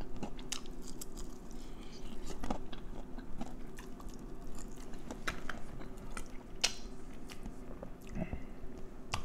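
Someone bites and chews KFC Georgia Gold honey mustard BBQ fried chicken up close, with repeated crisp crunches and wet chewing against a faint background hum.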